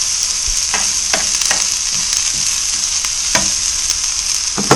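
A burger and grilled onions cooking on a grill at a camping trip in Shelby Forest State Park, with a steady close sizzle hissing throughout and occasional sharp scrapes and pops from stirring, no voices.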